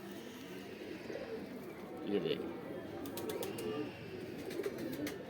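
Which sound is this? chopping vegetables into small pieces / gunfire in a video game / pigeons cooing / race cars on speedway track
pigeons cooing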